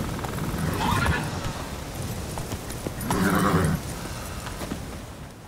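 Roach, a horse in the video game Witcher 3, with hoof clip-clops under a steady ambient bed and louder voiced passages of speech over it.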